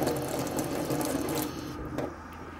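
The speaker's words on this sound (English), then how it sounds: "I'm just going to take my same soap and wet the" Tap water runs steadily into a sink while a makeup brush is wetted over soap, a close, continuous splashing hiss that eases off slightly near the end.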